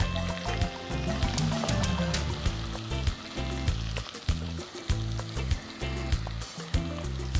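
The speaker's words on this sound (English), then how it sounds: "So we start by frying the onion." Onions sizzling and crackling in hot oil, close by, with rhythmic background music playing underneath.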